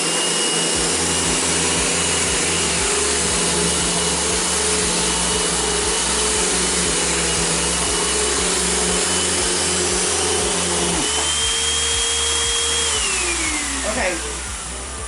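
A vacuum cleaner runs steadily on a rug in a home, a loud continuous motor whine that holds nearly unchanged, then drops in pitch and fades toward the end as it shuts off.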